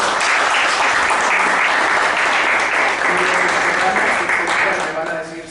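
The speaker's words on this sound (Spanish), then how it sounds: "vamos a darnos un aplauso" A group at a philosophy café session applauds itself at the close of a discussion, a sustained, loud wash of clapping lasting several seconds before tapering slightly at the end, with murmured voices underneath.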